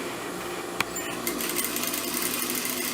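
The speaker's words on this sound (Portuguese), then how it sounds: "Então eu vou preferir dar um pesponto aqui por fora, para que ele me ajude na hora de inserir o elástico aqui na calça" A sewing machine runs at a steady, rapid stitching rhythm, topstitching along the outside of a pair of trousers, with a faint click before the stitching settles into a continuous buzz.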